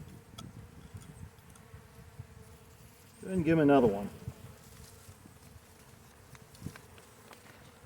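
Honey bees at a hive during a February check give a short, close, rising buzz that swells for about a second before fading, with a quiet voice speaking around it over low outdoor background noise.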